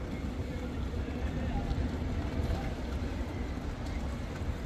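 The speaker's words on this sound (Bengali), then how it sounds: "পাচ্ছেন ঘাটের দিকে কিন্তু ক্রমশই এগিয়ে আসছে পারাবত 18" The Parabat 18, a large passenger launch, approaches the ghat at Barishal with a steady, broad engine rumble and a wash of water and wind noise that stays constant throughout.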